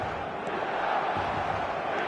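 A packed stadium crowd in Guadalajara inside the eFootball video game on PS4 keeps up a steady, loud roar of massed voices with no break.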